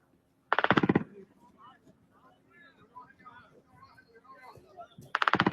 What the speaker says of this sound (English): Audio analysis of another video taken at night indicated that machine gun fire came from within 115 meters of the camera.